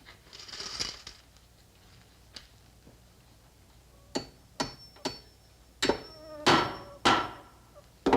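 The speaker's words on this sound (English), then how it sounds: "A hammer to hammer nails" A hammer strikes nails in a series of sharp, close knocks, a few sparse taps at first, then quicker, louder blows ringing out near the end, with faint buzzing in the background.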